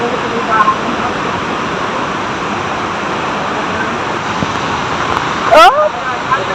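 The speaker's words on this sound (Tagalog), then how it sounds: "Mother Falls, San Luis, Aurora!" Mother Falls in San Luis, Aurora pours down in a steady, loud rush of water that fills the whole scene, while people speak and exclaim over it.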